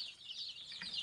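A sick young chick makes soft, high, thin peeping sounds while being gently pressed during treatment. The faint cheeping runs continuously, close by, with no talking.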